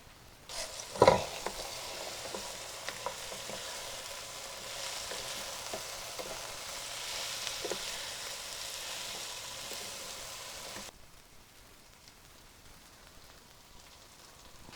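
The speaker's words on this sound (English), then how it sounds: "Now here's the time also for our turmeric, and at the same time our black pepper, and saute for about 3 more minutes." A vegan Persian eggplant stew with turmeric and black pepper sautés in a pan, giving a soft, steady sizzle with occasional stirring clicks and one sharper knock early on. The sound drops quieter near the end.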